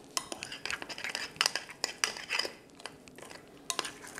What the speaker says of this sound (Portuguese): Mexe bem.